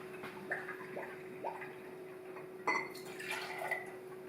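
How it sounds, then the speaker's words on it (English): Buffalo Trace bourbon poured into a glass for an old fashioned cocktail, heard as faint, soft liquid trickles and drips with a sharper splash near the middle, close and quiet with no talk. "We're going to start with 2 ounces of the Buffalo Trace bourbon."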